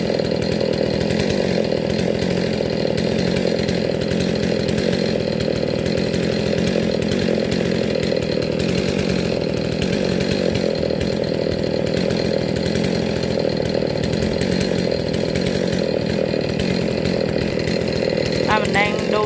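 A chainsaw runs steadily while cutting a royal palm tree in Gò Công, a loud continuous engine drone filling the scene with little variation in level.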